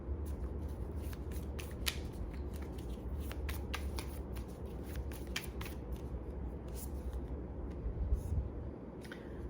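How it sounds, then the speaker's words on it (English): Rapid papery riffling of playing cards being shuffled, a dense continuous flutter with sharp snapping bursts, close and steady throughout. "I've shuffled the hell out of this deck"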